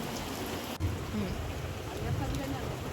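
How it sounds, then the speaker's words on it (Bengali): Heavy rain pours steadily outdoors beside a village clay stove where biryani is being cooked, a dense, even patter that fills the whole moment. "এদিকে অঝোরে বৃষ্টি ঝরছে"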